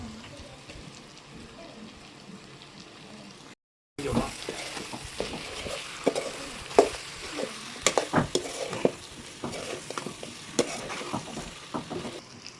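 Curry leaves go into sizzling chicken chukka in a hot pan, followed by a loud burst of crackling and spattering with stirring scrapes and clinks. The sound is close and busy after a brief drop to silence, with a softer sizzle before it.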